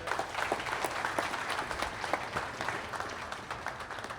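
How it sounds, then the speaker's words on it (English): An audience gives a round of applause at an IGNYT success-stories event in Trinidad, with dense, steady clapping filling the room for several seconds and no speech over it. "round of applause"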